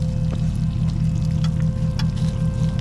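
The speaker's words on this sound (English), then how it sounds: "Look at the water just running right out of it." Water runs out of something full of stinking water and dirt, a continuous low gurgling, splashing rush with a faint steady hum, close and fairly loud, with no voices.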